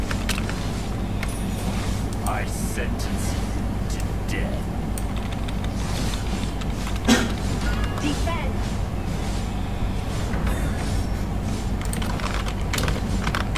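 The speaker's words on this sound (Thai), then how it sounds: "ทำไมเสียงคีย์บอร์ดมันดังวะ" Keyboard keys clack in scattered bursts during a livestream of the mobile game ROV, the clicks sitting faint and close beneath steady talking and game audio.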